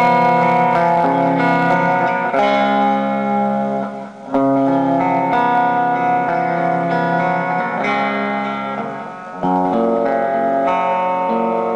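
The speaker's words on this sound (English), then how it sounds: "I turned it up a little bit and added some echo." Electric guitar on its single-coil bridge pickup, played through a Xam amp with echo added: sustained, ringing chords and notes with repeating echoes, loud and steady throughout, with a brief dip near the middle and no talking.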